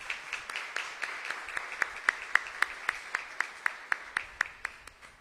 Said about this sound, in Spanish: Un aplauso para la Santísima Virgen María.